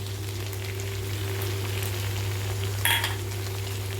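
Okra fries in a pan with mustard and poppy seed paste, a faint steady sizzle with a low hum beneath and one brief louder spatter near the end.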